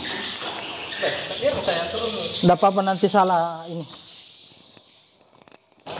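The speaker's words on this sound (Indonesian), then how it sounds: "Suara burung itu. Suara asli." Birds chirp and call in a swiftlet bird house in Palopo, South Sulawesi, with a burst of rapid repeated chirps in the middle over constant hiss, while people talk throughout.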